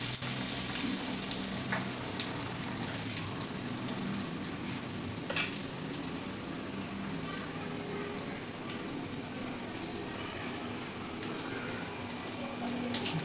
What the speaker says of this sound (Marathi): तुम्हाला इथंच असेल ना आवाज कशी मोहरी तडतडते.